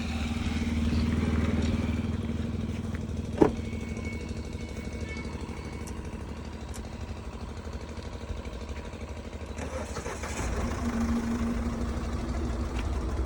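A Ford car engine just started and settling into idle, a steady low mechanical hum with a rhythmic throb, heard close up, with a sharp click early on and faint voices in the background.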